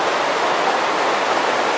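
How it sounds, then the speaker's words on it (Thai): Shallow stream flowing at Khao Chamao waterfall in Rayong, a steady broadband rush of water running evenly and fairly close with no voices. "เป็นลำธารตื้น"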